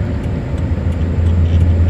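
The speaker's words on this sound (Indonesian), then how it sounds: "ada yang mobil lewat nih guys" A car on the road to Bangkalak island passes with a steady, loud, low engine rumble and road noise that swells slightly toward the end, with no talking.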